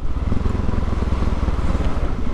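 A motorcycle with its exhaust baffle removed rumbles steadily and loudly close by in a multistorey car park, a deep, throbbing drone throughout with some wind buffeting.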